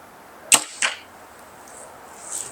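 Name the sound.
arrow shot from a bow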